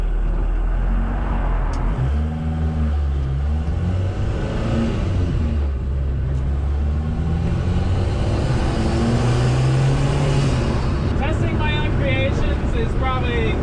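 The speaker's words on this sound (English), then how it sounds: "the fact that this turbo is spooling at all is freaking sick" A VW 1.6L turbo diesel Sprinter van engine, fitted with a turbo taken from an engine almost twice its size, runs loud and close with a steady roar and rising turbo whine as it pulls hard; a voice may be faintly present.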